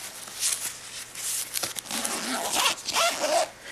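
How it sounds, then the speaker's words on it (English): A zipper closes a pocket on a PKG briefcase-style messenger laptop bag, several quick close rasping pulls at different speeds, near and clear. "keep it safe and just zip it up. So we'll close this one."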